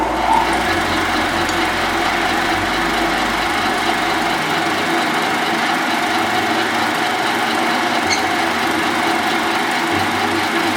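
A horizontal boring machine takes a cut in metal, giving a steady mechanical hum and whine that runs continuously and close, with no one speaking.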